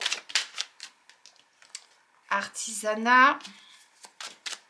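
Tarot cards are shuffled in a brief, crisp flurry midway, between bursts of someone speaking French close by.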